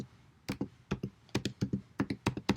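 Fingers type on a computer keyboard in a quiet room, with crisp key clicks in quick irregular bursts and short pauses between groups of presses. Close and clear, with nothing else behind them.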